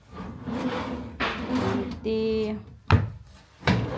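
An empty drawer is pulled open and pushed shut in a home during a house move. Soft sliding scrapes are followed by two sharp knocks near the end, with a voice speaking briefly in between.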